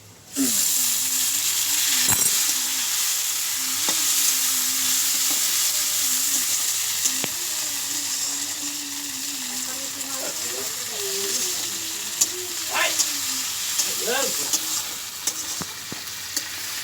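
Chopped tomato hits frying fish in a pan, setting off a steady sizzle with scraping stirs and scattered clinks throughout, while a faint low hum runs underneath; no voices.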